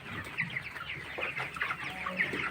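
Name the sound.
broiler chickens clucking while eating and drinking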